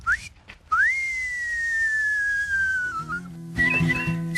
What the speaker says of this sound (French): si c'est très très joli, le sifflet c'est plus long